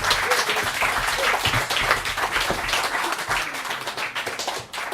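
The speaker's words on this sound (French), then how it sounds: "Je vous demande d'applaudir Nino Fionetti." Audience applause at an inauguration evening, a dense steady wash of many hands clapping throughout, loud and continuous with no speech.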